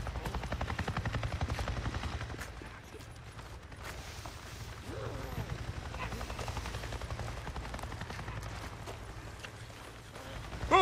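Helicopter in the video game Days Gone, a steady low rotor thrum sustained throughout at moderate level, with faint scattered mechanical noises over it.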